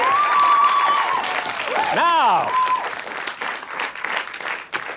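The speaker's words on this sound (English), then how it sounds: "Cue applause, please." Studio audience applause on a British television talk show, a dense steady patter of clapping running under a host's speech and brief musical tones throughout.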